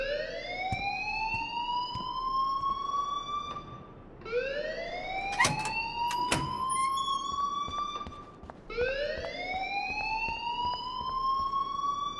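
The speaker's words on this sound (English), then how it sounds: "please turn off that alarm since that's your job." Fire alarm in Life is Strange Remastered, a loud electronic whoop rising in pitch, repeating three times in steady cycles, with brief clatter between sweeps and no talking.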